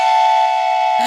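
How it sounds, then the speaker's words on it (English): A train whistle blasts loud and sustained as a single steady tone for about a second, then cuts off abruptly as other noise breaks in. "Wait, was that the train whistle?"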